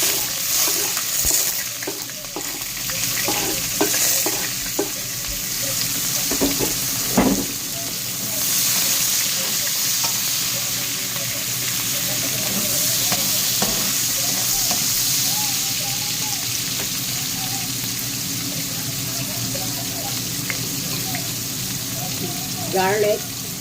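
Onion fries in a pan for lomi soup, giving a continuous close sizzle with scraping and clinking as it is stirred.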